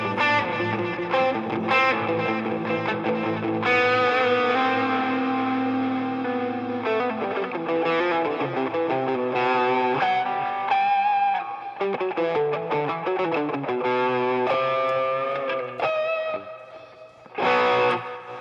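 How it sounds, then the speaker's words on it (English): Distorted electric guitar run through echo and delay effects, sustained notes and chords repeating and trailing off in layered echoes, played alone and loud for several phrases before a final burst. "So, yeah, you can get from the echo realm. You can get it down to just your standard delay kind of sounds."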